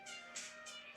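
A pet cat named Julian meowing, a few short meows close to the microphone with brief pauses between them.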